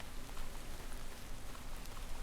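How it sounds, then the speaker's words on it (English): Heavy rain falls in the Minecraft video game as a soft, even patter and hiss that stays constant and fairly quiet throughout. "we can live test the effectiveness of our roof because it's raining heavily"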